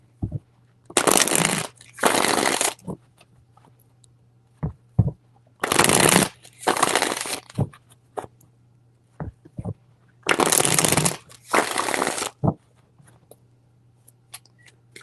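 Tarot cards being shuffled in three separate bursts of crisp riffling spread over several seconds, with a few light taps and card handling in the quiet gaps between them.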